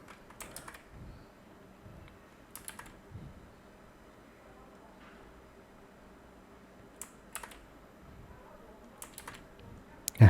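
Someone types an API secret key on a computer keyboard, producing scattered short bursts of soft key clicks separated by quiet pauses.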